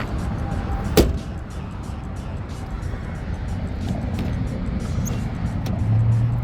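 A 2009-2014 Nissan Maxima engine idles after a throttle body cleaning, giving a steady low hum that fills the whole stretch, with one sharp click near the start.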